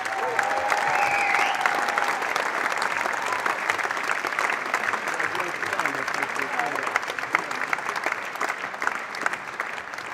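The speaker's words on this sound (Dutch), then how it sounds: "Applaus voor de geweldige band achter de schermen" Audience applause rises for the band, a dense sustained clapping that stays loud and steady throughout, with a brief tonal sound early on and faint voices mixed into the crowd.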